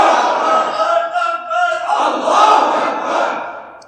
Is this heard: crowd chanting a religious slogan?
yes